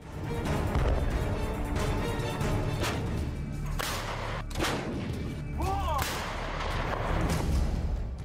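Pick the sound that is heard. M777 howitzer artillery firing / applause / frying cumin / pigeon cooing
M777 howitzer artillery firing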